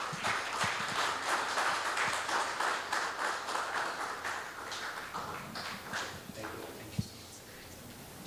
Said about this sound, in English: A round of applause for sir.